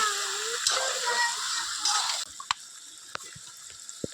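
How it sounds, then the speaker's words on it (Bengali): Mutton with spices hits a hot pan in a loud hiss and sizzle that cuts off abruptly after about two seconds, followed by quieter frying and a few sharp clicks of a spoon against the pan. "ঢেলে ভালো করে মশলা দিয়ে খাসির মাংস আমি কষিয়ে নেব"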